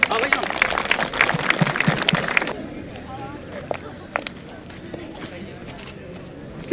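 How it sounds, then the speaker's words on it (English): Audience at a college event clapping in a dense burst of applause for about two and a half seconds, then thinning to scattered claps and room noise while a voice speaks over it. "A huge round of applause, guys."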